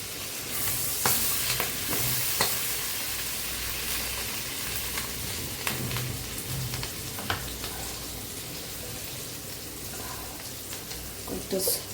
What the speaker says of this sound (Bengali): বন্ধুরা, এখানে আমি একটা বড় সাইজের পেঁয়াজ কুচি করে কেটে রেখেছি, সেটা এখন ভাজি করে নেব।